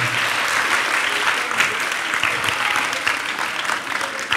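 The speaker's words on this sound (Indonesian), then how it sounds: "Tepuk tangan buat kita semua." An audience at an Islamic religious lecture applauds together, a dense and steady wash of clapping that holds at even strength throughout.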